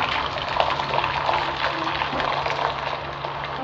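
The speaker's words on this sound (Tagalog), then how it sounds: "Magpapakulo tayo ng tubig" Water pouring steadily into a cooking pot, readied for boiling spaghetti, a continuous close splashing gush that holds for a few seconds.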